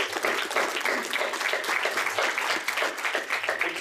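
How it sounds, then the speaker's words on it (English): Live audience clapping at a meeting about leasing tax, dense energetic applause filling the whole stretch at a fairly close, loud level. "I think we need a round of applause for him."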